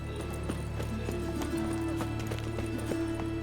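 Horse hooves clip-clopping steadily in The Witcher 3, a continuous rhythmic trot close by, with a brief whinny and ambient game sounds layered underneath.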